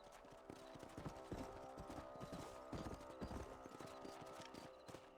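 Horse hooves in Red Dead Redemption clip-clop in a steady trotting rhythm over a constant musical hum, fairly close and moderately loud.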